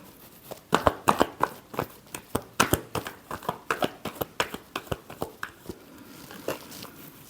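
A deck of tarot cards is shuffled by hand, giving a close, irregular series of sharp flicking snaps and slaps that slows and thins out toward the end.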